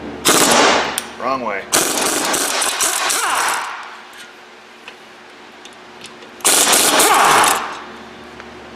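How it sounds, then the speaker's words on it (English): Impact wrench with a 17 mm swivel socket buzzing caliper bracket bolts off the front brakes of a Honda Accord, two loud rattling bursts close up, the first followed by brief talk, the second alone after a quiet pause. "we'll buzz our caliper bracket off with the 17 mil swivel socket"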